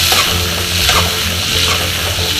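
Onions and tomato sautéing in hot oil for a chicken curry, a loud continuous sizzle with stirring scrapes in the pan, close and without speech.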